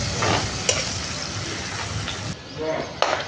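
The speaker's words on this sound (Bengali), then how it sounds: "পেঁয়াজটা লাল লাল করে ভেজে নেব" Onions frying in a kadai with cinnamon, cardamom, peppercorns and bay leaf for mutton biryani, a steady sizzle with the scrape and clink of stirring, a voice talking over it.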